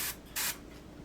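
Short hissing bursts of spray paint on the deck of a model ship, two quick puffs, close and fairly loud, with quiet room tone between them.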